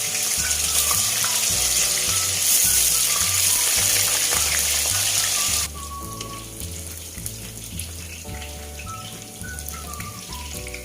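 Potatoes sizzling steadily in a pan for Minang-style asam padeh, a loud continuous frying hiss layered over a repeating low musical beat, with no talk.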